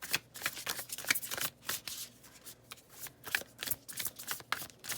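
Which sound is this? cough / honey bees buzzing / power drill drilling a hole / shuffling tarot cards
shuffling tarot cards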